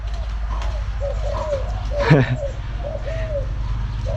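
A spotted dove coos close by in a rhythmic run of soft, repeated calls, with a brief louder burst midway and a low human voice underneath.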